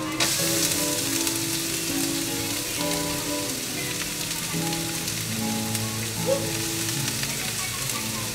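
Onion sizzling and frying in a hot pan, a bright, steady crackle with a sharp burst at the start as it hits the oil, running under soft background music tones.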